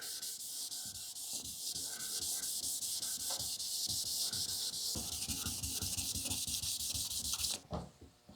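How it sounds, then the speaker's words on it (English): Clear coat being sanded by hand near masking tape on a 1940 Ford-inspired hardtop coupe, close rhythmic rasping strokes that continue steadily and then stop abruptly near the end, with no talking. "We're going to go through and sand this area here."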